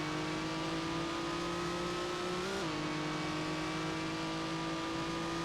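A race car engine in the racing game Grand Prix Legends at Assen, droning steadily and loudly as it drops to second gear, with the pitch dipping briefly midway under continuous engine whine.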